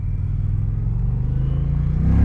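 A 2020 Indian Challenger motorcycle pulls away in first gear, its engine a loud, close, steady low rumble that swells and deepens toward the end as it accelerates.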